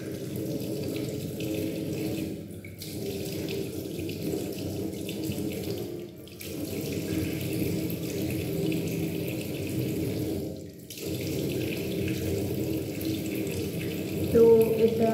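Water from a tap pours steadily to rinse a tan-removal pack off the neck. The flow is close and continuous, broken by a few short interruptions and a splash at the end.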